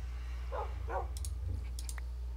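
A dog in the game Minecraft lets out two short, close barks, followed by light clicking of mouse or keyboard and a faint soft sound; no talking.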